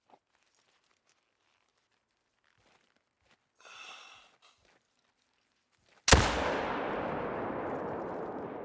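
A single loud, sharp rifle shot at a mule deer in theHunter: Call of the Wild rings out after a quiet stretch with faint rustling, then a long rumbling echo trails away.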